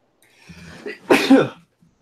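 A single sneeze: a short breathy intake builds up, then a sharp explosive burst, close and loud, followed by silence.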